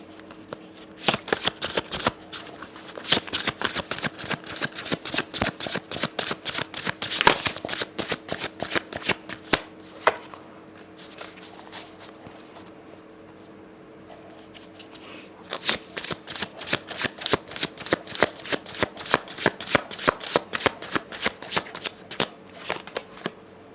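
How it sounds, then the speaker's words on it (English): Oracle cards being shuffled by hand, rapid crisp riffling flicks in two long bursts separated by a quieter pause, close and clear. "I'm going to just pull a few cards or a couple cards from the Sacred Creators Oracle."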